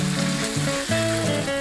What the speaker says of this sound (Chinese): 两边都变成金黄色就可以 淋入之前准备好的酱汁， 立刻调成小火